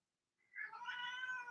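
A cat gives a single drawn-out meow that rises then holds, fairly faint and alone against a quiet background.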